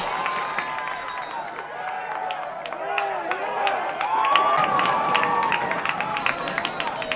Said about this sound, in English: the crowd's starting to make some noise now